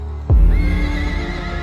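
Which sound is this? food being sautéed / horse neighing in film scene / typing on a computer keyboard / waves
horse neighing in film scene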